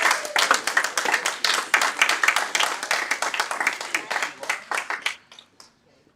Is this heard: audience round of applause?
yes